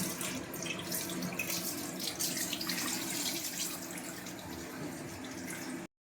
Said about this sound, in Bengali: মাংসগুলো একটু ভালো করে ধুয়ে নেব